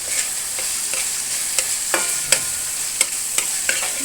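Cut prawns sautéing with salt in an oiled pan, a steady close sizzle punctuated by quick irregular clicks and scrapes of a spatula stirring against the metal.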